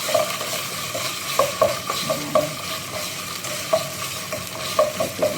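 Tomato puree and chicken cooking in a pan for a spicy tomato chicken dish, a constant sizzle broken by repeated sharp spoon clinks and scrapes against the pan at an uneven rhythm.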